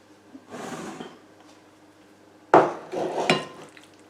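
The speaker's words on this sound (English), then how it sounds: "Just going to spoon it into the dish." Savoury pumpkin pie filling being spooned into a pastry-lined dish for a Halloween pie: a soft scraping scoop, a pause, then a louder clatter of a spoon against the dish followed by further scrapes, close by with no talking.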